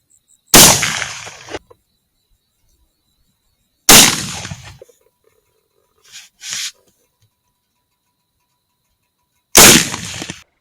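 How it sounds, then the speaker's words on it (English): .204 Ruger rifle shots fired while shooting mice, four sharp loud cracks spaced a few seconds apart with short ringing tails, silence between. "I'll go and keep shooting. We'll get into some more mice."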